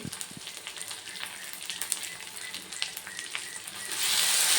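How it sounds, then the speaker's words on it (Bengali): Spices with salt and turmeric sautéing in a pan for a light katla fish curry, a constant bright sizzle with scattered pops, building to a louder hiss at the end; nobody speaks. "এবার সবগুলো একসঙ্গে ভালোভাবে কষিয়ে নেব"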